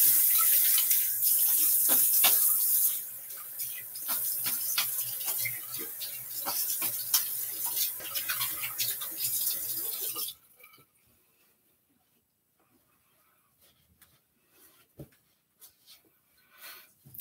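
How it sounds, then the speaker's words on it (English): A tap runs into a sink as a face is washed after shaving, a loud steady rush of water with splashes and knocks, then the flow stops and only scattered small drips and handling noises remain. "Let me wash the stuff off my face here."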